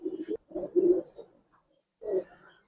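Giribaz pigeons coo in a loft, giving a few soft, throaty rolling coos close to the microphone, with a short pause before a final coo, quiet and alone.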